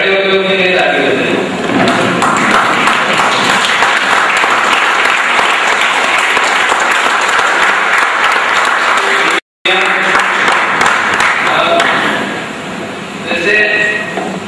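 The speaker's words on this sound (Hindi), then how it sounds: "जब खड़े होकर उनके लिए ताली बजाएं" An audience at a lecture on FDI in Ahmedabad rises and applauds for Devendra Sharma, loud sustained clapping filling the hall, with a brief dropout and a voice speaking over the end.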